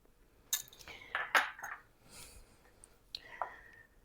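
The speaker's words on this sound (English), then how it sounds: "And I'm going to stir it together." Melted butter being stirred into soda bread batter in a home kitchen, heard as soft scraping and a few sharp clinks of utensil against bowl, close and fairly quiet with no voices.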